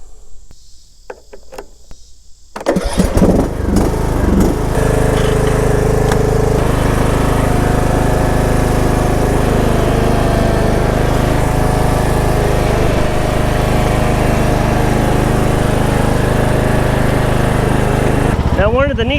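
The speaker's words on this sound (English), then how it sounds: "I can still tow it without it running because the clutch is not engaged on the tiller" A small tiller's engine starts after a few seconds of quiet and runs steadily and loud for the rest of the clip, a continuous droning putter that dominates throughout, with a brief shift at the very end.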